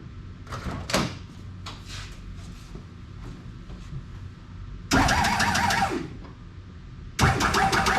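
Hydraulic lockup on a Monte Carlo LS lowrider: two loud bursts of pump whine and hiss, one lasting about a second and a half and a later shorter one, with quieter clunks and rattles before them.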